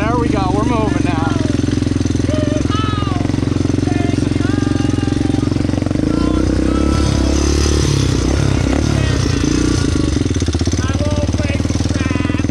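A Kawasaki KFX700 ATV, run-down after years of neglect, idles and then rumbles off in a steady, close engine drone, with voices talking over it.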